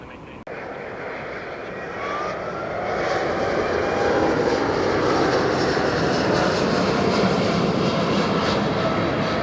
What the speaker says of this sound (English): Holy moly, I hear a plane right behind me.